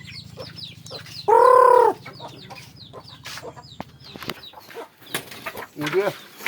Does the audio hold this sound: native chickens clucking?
yes